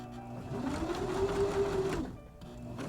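A sewing machine runs a zigzag stitch across the loose warp ends of a handwoven hand towel, a steady whirring hum lasting about a second and a half at moderate closeness, with quiet room tone before and after.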